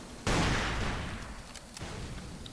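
A single heavy blast of gunfire in Ace of Spades, loud and close, its long rumbling tail fading over a couple of seconds, with a few fainter shots following and no talk.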